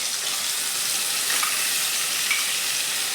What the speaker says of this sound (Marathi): तर डाळीला चांगलं थोडं परतायचं आहे बघा आपल्याला